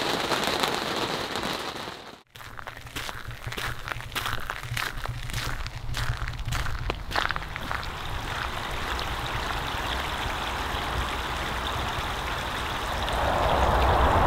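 Heavy rain pouring onto a boat at anchor, a loud close roar of drops drumming on the deck and cabin roof, steady throughout with a brief dip early and a surge near the end.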